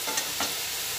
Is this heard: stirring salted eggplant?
yes